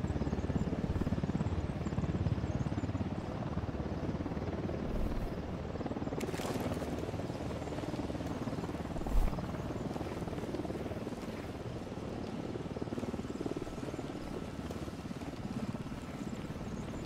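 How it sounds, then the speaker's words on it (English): Helicopter rotor and engine noise in the video game Ghost Recon Wildlands, a steady, fairly loud drone that holds throughout with a brief thump partway through. "Helicopter incoming."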